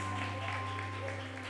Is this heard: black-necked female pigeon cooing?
no